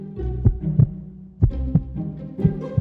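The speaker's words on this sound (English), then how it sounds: "I can even hear his heartbeat pounding" A heartbeat pounds in steady, close, heavy double thumps over a low droning hum, with no voices.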